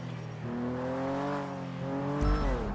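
A car engine in the GTA roleplay game NoPixel holds a steady, rising drone as the car drives slowly, then drops pitch briefly near the end with a low thump, heard up close and without talk.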